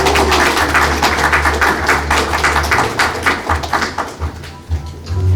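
Hearty audience applause at a Korean award ceremony as the scholarly-prize recipient walks up. Loud, dense clapping over a low hum thins out unevenly toward the end.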